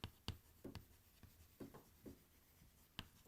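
Pen strokes on paper, a few quiet scratchy marks and taps spaced irregularly, close and soft with no voice over them.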